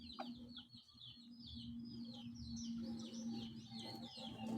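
A hen clucks faintly and repeatedly after laying an egg, with chirpy bird calls mixed in over steady outdoor background noise.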